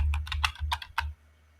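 Quick bursts of computer keyboard typing while entering code, about half a dozen close, crisp keystroke clusters in just over a second, then falling quiet.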